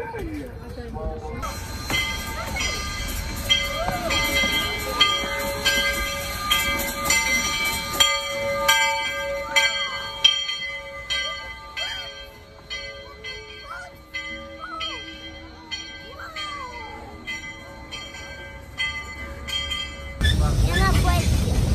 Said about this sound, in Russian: Мы на поезде нас везут.